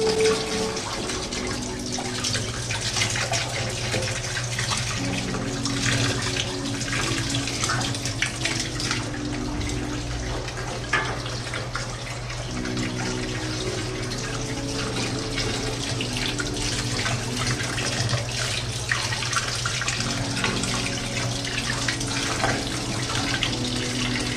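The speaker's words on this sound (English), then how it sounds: "using highly alkaline water, purified alkaline water to do this" Purified, mineralized alkaline water runs steadily from a tap while fresh wild ginseng roots are prepared, a continuous splashing stream lasting throughout with no pauses.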